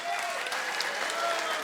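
An audience at a comedy show breaks into dense, continuous applause, a steady wash of many hands clapping at once that stays loud throughout.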